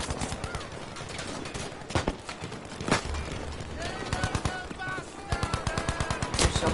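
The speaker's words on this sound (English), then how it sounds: "Oh yeah, I'm shooting my teammate." Dense automatic gunfire in the video game Battlefield V, rapid bursts of machine-gun fire and sharp shots crackling nearly nonstop, close and loud, with other battle noise and occasional voices mixed in.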